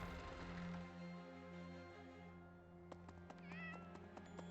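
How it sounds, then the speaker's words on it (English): Cats meowing in the Fire Emblem: Three Houses video game, several short, clear meows near the end over a quiet, steady game music bed. "Kitty cats."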